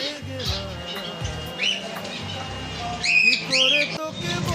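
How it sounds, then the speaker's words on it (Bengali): Several short, sharp cockatiel squawks and chirps ring out in a pet shop over a low background hum, coming in scattered bursts. "ককাটেল"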